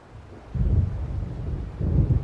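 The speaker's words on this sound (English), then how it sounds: "It seems there's a storm coming." Deep, rolling thunder at Cauldron Lake in the video game Alan Wake rumbles in two heavy low swells, close and loud, with a faint windy hiss behind it.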